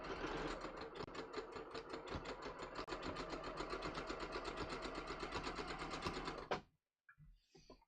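A sewing machine stitches a blind hem in tan thread, running as a steady, rapid, close-up chatter for about six and a half seconds before stopping abruptly, leaving only faint handling sounds.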